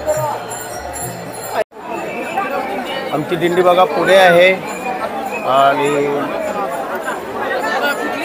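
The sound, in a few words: large crowd of pilgrims at Pandharpur on Ashadhi Ekadashi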